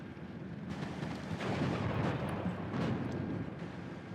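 Distant battlefield din in the video game Steel Division 2, with MG42 machine gun and 45 mm gun fire: rumbling booms and scattered shots layered into a continuous, moderately loud roar, no voices.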